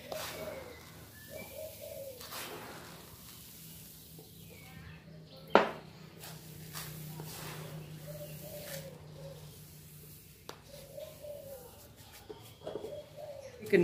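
Captive spotted doves kept for breeding coo in repeated soft, low phrases at a moderate distance, with a sharp clatter partway through and faint background noise.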